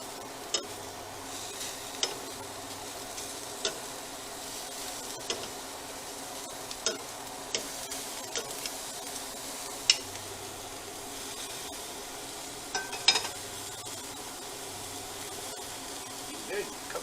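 Keto food frying on a grill pan just after being flipped, a low steady sizzle with occasional sharp clicks of utensils against the pan, fairly quiet and close, with no talk over it.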